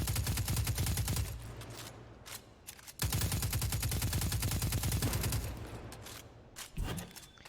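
Rapid auto rifle fire in the sci-fi shooter Destiny 2, in two long sustained bursts with a short gap between them and a brief shot near the end, loud and close with game effects underneath.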